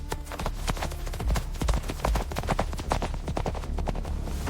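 Several horses' hooves clip-clop steadily along a road at a brisk riding pace, close and fairly loud, the hoofbeats layered into a busy, uneven rhythm with low rumbling underneath.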